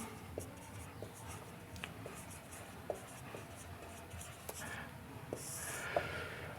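Chalk scratches across a classroom board in a steady series of faint strokes, with sharp little taps where the chalk strikes the surface, over a quiet room hiss.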